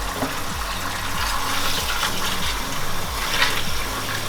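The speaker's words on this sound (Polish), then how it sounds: "Nalewam zimnej wody." Cold water pours into a pot of cooked rice to rinse off the starchy film, a steady gushing, splashing flow that continues throughout at moderate loudness.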